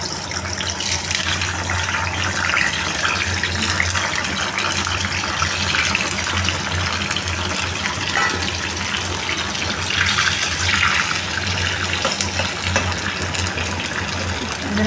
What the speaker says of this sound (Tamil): இப்போ இதை நம்ம எண்ணெயில் பொரித்து எடுத்துக்கலாம்.